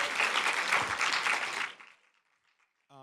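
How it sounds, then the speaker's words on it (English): Audience applause for speakers at an MIT generative AI summit, a dense, steady round of clapping that fades out after about a second and a half, leaving near silence before a voice begins at the very end. "If we get one more round of applause for the speakers."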